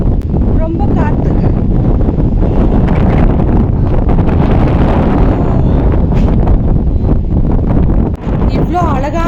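Loud, unbroken wind buffets the microphone on the foggy summit of Kabbe hills in Coorg. A dense rushing roar fills the whole stretch, with only a brief dip near the end.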